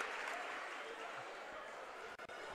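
Crowd applause at a girls' soccer match, a steady wash of clapping from the stands as an injured Gauchos player gets back to her feet, fairly distant and continuous before briefly dropping out near the end.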